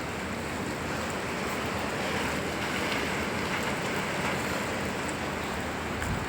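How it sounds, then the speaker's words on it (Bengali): Rain falling in Qatar, a steady dense hiss and patter that stays even throughout, with some wind noise on the microphone and no talk. "কালকে রাত থেকে আজ পর্যন্ত বৃষ্টি হচ্ছে।"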